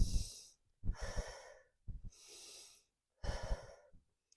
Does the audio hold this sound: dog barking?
no